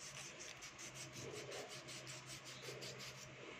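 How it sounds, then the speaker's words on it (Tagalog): Steady rhythmic rasping of sandpaper rubbed back and forth over wood, close and fairly quiet, repeating in even strokes with no talking. "Lilihain lang natin siya para kuminis uli."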